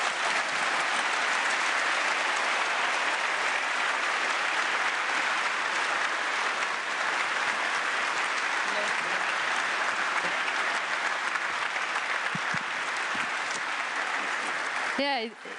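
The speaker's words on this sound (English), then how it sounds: "it deserves a round of applause indeed" Sustained, even applause from a large audience of EU leaders and delegates in Antwerp after a speech, filling the hall at close range for about fifteen seconds before cutting off.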